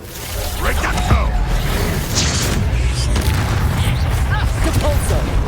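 A Reducto spell cast in Hogwarts Legacy, a loud booming blast with rumbling low end and whooshing debris, sustained and dense, with a voice and scattered effects layered over it.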